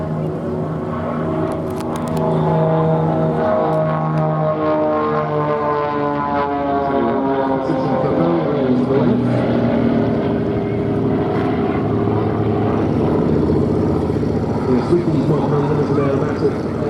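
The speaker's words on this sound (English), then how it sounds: "315 horsepower gives the XA41 a maximum speed of 210 knots" An Extra XA41 aerobatic propeller plane with a 315 horsepower engine flies a display at an air show, its engine and prop drone loud and sustained with shifting pitch as it maneuvers, under steady commentary.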